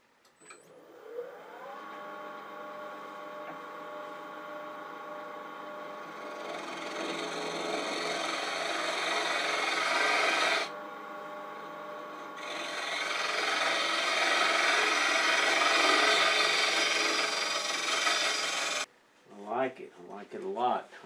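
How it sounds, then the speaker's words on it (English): Woodturning tool cutting holly wood on a spinning lathe, a sustained close scraping whir with a brief pause, then a rising tonal hum that stops, followed by soft handling noises. "make this cut, cutting with the tool just about flat"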